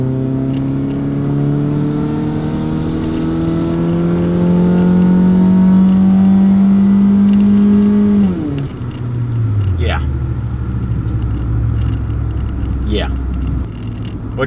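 A car engine floored under hard acceleration drones loudly and steadily, its pitch climbing for several seconds before dropping sharply as the revs fall away into a lower, continuing hum.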